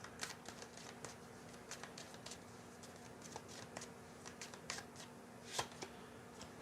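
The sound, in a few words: pulling and shuffling tarot cards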